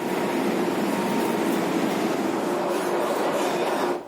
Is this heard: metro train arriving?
yes